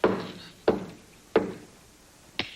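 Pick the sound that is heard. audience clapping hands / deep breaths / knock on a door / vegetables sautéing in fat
knock on a door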